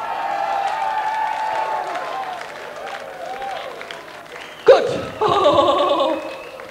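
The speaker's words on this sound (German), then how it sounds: "Applaus!" A rock concert crowd at a 1997 show at Pfefferberg in Berlin breaks into loud, sustained applause mixed with cheering and whistles, surging briefly and then swelling again near the end.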